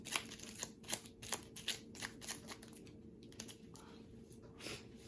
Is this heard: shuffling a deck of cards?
yes